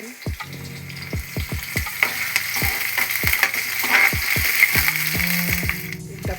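Green chilies hit a hot frying pan with onions for a restaurant-style pepper mushroom fry, giving a steady close sizzle broken by repeated sharp clanks of a spatula against the pan.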